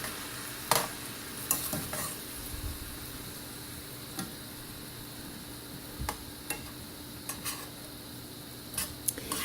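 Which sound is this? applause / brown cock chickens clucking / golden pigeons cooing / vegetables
vegetables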